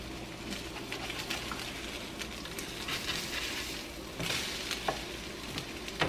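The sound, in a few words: low carb French toast sizzling in frying pan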